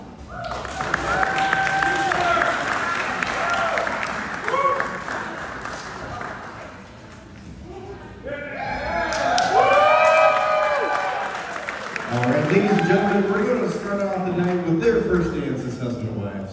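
A wedding reception crowd bursts into sustained applause and cheering, swelling in waves over many seconds with whoops and shouts on top, while a voice on a microphone speaks through it.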